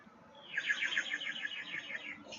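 A small toy bird whistle is blown close by, giving a bright warbling trill of rapid repeated chirps that lasts about two seconds before stopping, with a faint hint of another start at the end.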